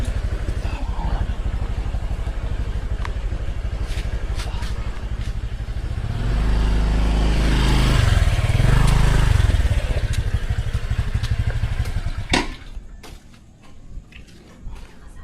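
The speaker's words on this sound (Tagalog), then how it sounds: "Rinig siguro ang motor." A motorcycle engine runs steadily close by, its low rumble swelling louder around the middle as if revving or passing, then cutting off abruptly near the end, with voices faintly under it.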